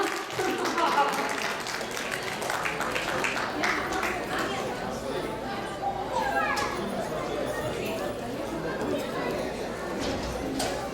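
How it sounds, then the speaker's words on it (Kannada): An audience at a stage event applauds, a steady, fairly loud wash of clapping mixed with crowd chatter that carries on throughout. "A big round of applause please. ಇನ್ನೂ ಜೋರಾಗಿ ಚಪ್ಪಾಳೆ."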